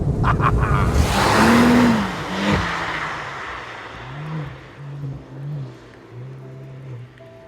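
Porsche 991 Turbo, the base model rated at 550 horsepower, driving with its engine note rising and falling through several throttle swells and gear changes, heard fairly close and loud with road roar underneath.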